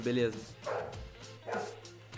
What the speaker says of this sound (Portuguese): Olha o cachorro latindo, cala a boca